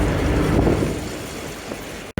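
A train runs along the Bangalore–Hosur railway line, heard from a passing bus as a steady, close, loud rumble with wheel noise. The sound cuts out sharply just before the end.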